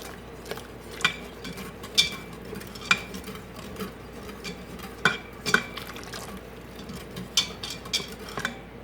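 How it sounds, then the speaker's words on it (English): A whisk stirs a cornstarch mixture into boiling broth in a metal pot. Close, rhythmic scraping swishes carry sharp metallic clicks and taps as the wires strike the pot's sides, over a low bubbling bed. "I'm just going to slowly add a little bit of this cornstarch mixture at a time and stir with a whisk"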